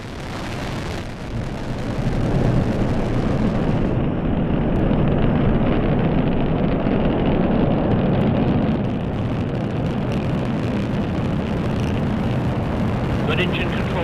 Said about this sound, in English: And liftoff at dawn.